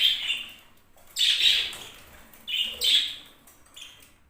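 Budgerigars chirping and squawking at close range, several bright, shrill bursts of calls with short pauses between them, no talk.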